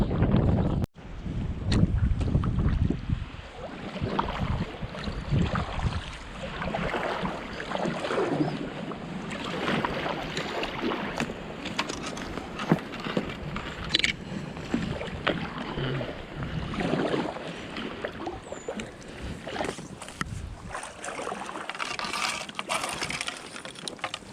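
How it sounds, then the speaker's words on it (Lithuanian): Wind blows hard across the microphone outdoors in the woods, a continuous loud rushing buffet that lasts throughout with no voices. "Tikriausiai vėjas pučia, ne ką suprasit."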